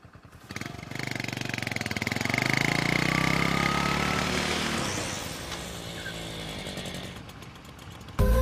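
A motorbike engine runs close by, revving up to a loud buzzing roar that peaks, then settles into a steady idle rumble before cutting off.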